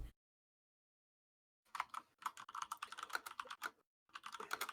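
Rapid typing on a computer keyboard, a quick run of close, crisp key clicks after a second and a half of silence, pausing briefly before resuming, with no voices.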